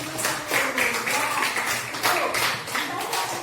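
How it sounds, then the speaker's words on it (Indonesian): A classroom of students claps together in quick uneven bursts, fairly close and loud, with a voice talking over the applause. "tepuk tangan dulu buat kami"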